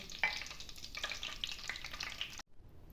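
Eggplant sizzles and crackles in a hot pan, close and continuous, with a few stirring scrapes, then cuts off abruptly near the end.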